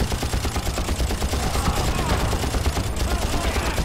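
Rapid automatic gunfire from a first-person shooter game, Far Cry, dense and continuous bursts filling the whole stretch at close range, with a player's voice faintly under the shots.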